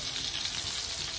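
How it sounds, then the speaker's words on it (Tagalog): Cream dory fish fillets frying in a pan, a steady, dense sizzle that holds evenly for the whole short stretch with no voices over it. "So habang po nakasalang ang aking last batch na fried fish fillet"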